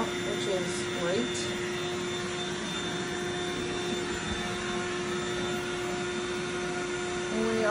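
A built-in electric pump steadily inflates a Bestway air mattress, its continuous droning whir holding at an even level, close and loud throughout.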